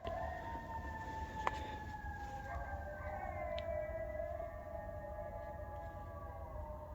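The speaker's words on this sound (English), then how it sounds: "there's some coyotes yapping back that way" Coyotes yapping and howling far off in cold, rainy woods at night, their thin wavering calls drifting faintly over a steady background hiss.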